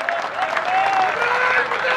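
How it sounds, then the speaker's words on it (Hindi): Audience at a poetry recital for an Independence Day nazm breaking into loud, sustained applause, a dense wash of clapping with a cheering voice riding above it. "एक बार जोरदार तालियां"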